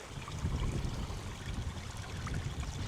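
A small spring of salty water trickles in a salt valley in Spain, a steady close, broadband watery babble that runs evenly for the whole stretch with no voices.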